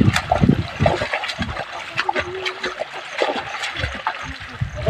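Water flows and splashes in close, continuous, uneven bursts with trickling detail, moderately loud throughout and without clear talk.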